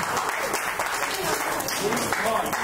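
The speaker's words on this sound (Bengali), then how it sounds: "প্লিজ জোরে হাততালি" Audience clapping after a child's dance performance, a dense steady round of applause at moderate distance, with a voice talking over it.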